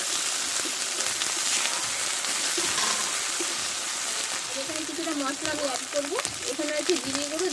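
Chopped tomatoes hit a hot pan of spiced chilli masala in a Bengali egg and potato curry, giving a steady rain-like sizzle and crackle that later mixes with soft clatter and movement.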